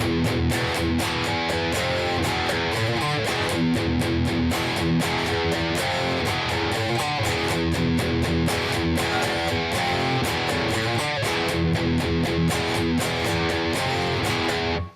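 Electric guitar plays the verse riff of a song, part of a full, dense band mix that stays loud and steady throughout, with a repeating chugging rhythm.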